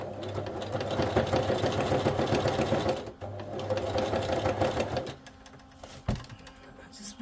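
A sewing machine stitching in rapid, steady bursts, pausing briefly between runs, close by with a thump near the end.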